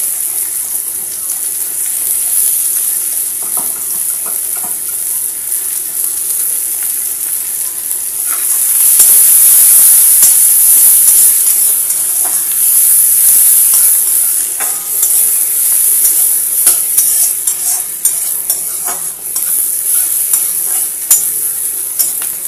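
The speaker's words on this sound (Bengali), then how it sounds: "পেঁয়াজটা হালকা বাদামি বর্ণের ভেজে নেব" Chopped onion frying in a pan for a Bengali shol fish dish, a loud continuous hiss and sizzle that swells midway as it is stirred, close up.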